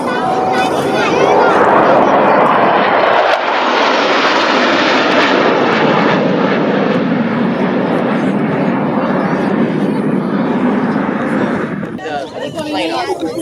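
A U.S. Air Force Thunderbirds F-16 fighter jet roars past during the Cleveland National Air Show 2021, a loud, sustained jet blast that builds and then tapers off, with crowd voices heard beneath it.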